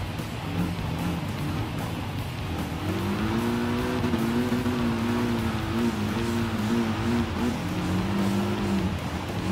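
Toyota 86 GT rally car engine in Gran Turismo Sport during an off-road online race, a loud, continuous drone whose pitch rises and falls through revs, with other cars faintly audible and no talking.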